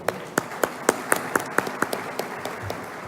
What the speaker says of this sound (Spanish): darles un fuerte aplauso entre todos